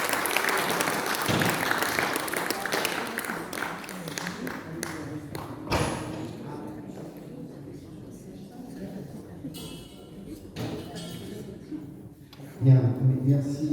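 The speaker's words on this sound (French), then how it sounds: "On peut applaudir notre conférencier." A lecture audience applauds the history lecturer after a talk, loud clapping at first that thins into scattered claps and thumps, with talking and room shuffling mixed in and a brief louder burst near the end.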